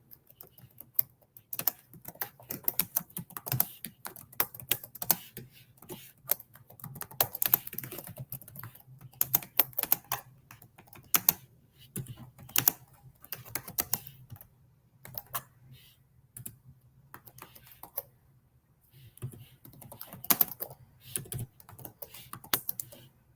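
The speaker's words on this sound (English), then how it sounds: "So I'm gonna type her name in the comment section." Computer keyboard typing, quiet and close, with irregular bursts of keystrokes and short pauses over about twenty seconds, alone with no talk.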